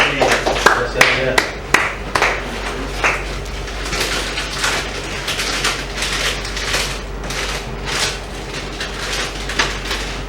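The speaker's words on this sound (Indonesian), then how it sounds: "Tepuk tangan." Several sharp claps ring out in a classroom during an Islamic cultural history lesson, then trail into scattered taps while people talk nearby.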